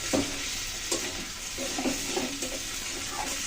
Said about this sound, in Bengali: এবার আমি ধীরে ধীরে ভাজতে থাকবো।